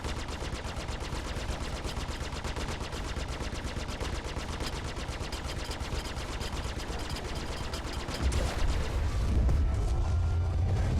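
Ship weapons in Star Citizen, fired from a Saber fighter at an Aurora and a Hornet, rattle off in a dense, unbroken stream of rapid shots, turning into a heavier, deeper booming barrage near the end.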